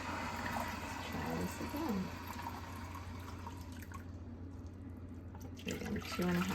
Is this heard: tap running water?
yes